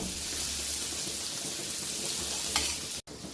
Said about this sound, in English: so melting the butter now